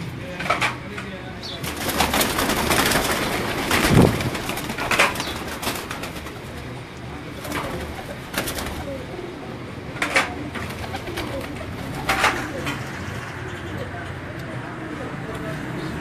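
Goge-breed pearl pigeons belonging to a pigeon keeper in Gujranwala coo on and off over about sixteen seconds, with occasional wing flaps, someone talking over them throughout.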